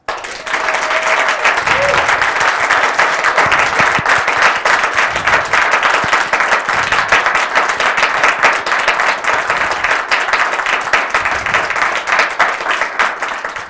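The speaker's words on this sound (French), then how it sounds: "On l'applaudit." Steady, dense applause from a studio audience welcoming a guest on a youth television programme, continuous and loud for many seconds with no clear break.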